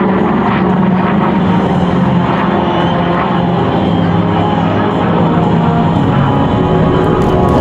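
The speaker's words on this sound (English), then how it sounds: "These aircraft you see flying here today, ladies and gentlemen, are those legendary planes" Droning engines of WWII propeller aircraft, a C-47, B-24 and B-25, fill the air steadily, a loud continuous roar with a low throbbing hum, as the planes pass overhead.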